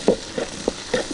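Chicken gizzards are stirred in a frying pan outdoors, giving a few quick scraping stirs close by over a soft, steady sizzle.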